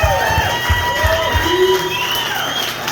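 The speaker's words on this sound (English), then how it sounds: "So a little round of applause for Brittany." Brief crowd applause and light cheering for a woman racer at a motorcycle racers' reunion, close and lively, with voices mixed in.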